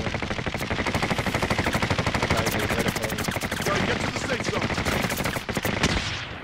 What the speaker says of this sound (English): I see gunfire coming from both other directions